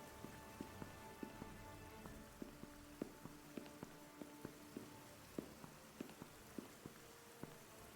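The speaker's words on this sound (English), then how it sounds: "Is it raining inside?" Steady rain falls in the video game Star Trek Resurgence, a soft continuous patter with faint, regular tapping drops and some quiet background tones.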